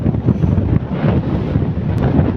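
Strong wind at a river buffets the microphone in a loud, continuous low rumble with gusty surges and no voices.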